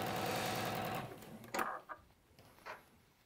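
An overlocker runs a seam on a sewing-chic parka with a 1 cm seam allowance, a steady loud mechanical whirr lasting about a second before stopping, then a few brief fainter clicks and rustles follow.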